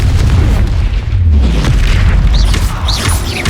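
A Confringo spell explosion in the Hogwarts Legacy video game sets off a loud, deep boom with a heavy rumbling tail and crackling debris, close and dominant throughout.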